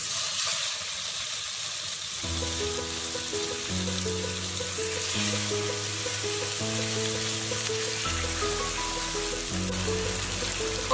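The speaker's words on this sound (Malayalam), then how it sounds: "ഇനി നമുക്ക് ഇതിലോട്ട് മീൻ ഇട്ട് കൊടുക്കാം." Pomfret fish shallow-fries in coconut oil in a pan, a steady close crackling sizzle, while a melodic instrumental tune plays over it throughout.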